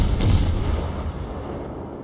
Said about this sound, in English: I bring all my broadside guns to bear, lead the target, and open fire.